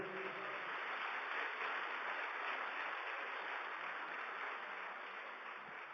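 Steady, dense applause from a large church congregation fills the whole stretch, evenly sustained and tapering slightly toward the end.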